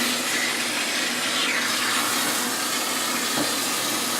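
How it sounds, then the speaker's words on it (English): Steady rushing water runs continuously while rinsing a cat during a bath, a broad hiss like a running tap or sprayer, with no voices. "continue to keep rinsing until the water is running clear"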